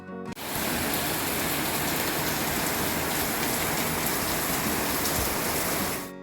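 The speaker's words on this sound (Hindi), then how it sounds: "आज हमारे यहाँ पे इतनी तेज़ बारिश हुई है, इतनी ज़्यादा तेज़ आवाज़ इस बारिश की आ रही थी" Heavy rain pours down steadily in a mountain setting, a dense, loud, unbroken hiss of drops hitting surfaces that starts abruptly and runs without pause to the end, with no voices.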